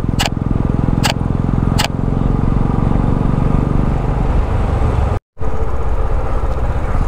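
A motorcycle riding along a road near Lonavala and Aamby Valley, its engine droning steadily and close with a brief dropout partway through, no talking.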